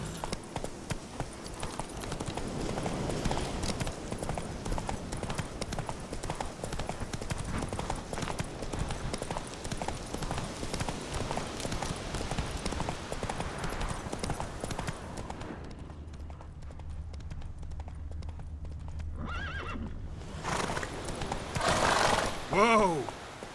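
Horse hooves clip-clopping at a steady gallop in The Witcher 3, with neighs and whinnies over a continuous game soundscape, the hoofbeats dropping out near the end as the horse halts.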